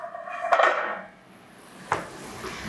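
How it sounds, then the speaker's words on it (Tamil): A metal lid clatters as it is lifted off a pot of boiling water for ghee rice, giving one sharp clang followed by a quieter knock about a second later. "தட்டை திறக்கணும்."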